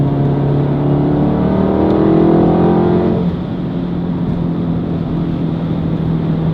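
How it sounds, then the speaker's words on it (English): A tuned MK7 VW Golf R making 500 wheel horsepower accelerates on the road, engine note climbing through rising harmonics before dropping back to a steady drone, heard from inside the car with no talk. "Nick, we are in the 500 wheel horsepower Golf R."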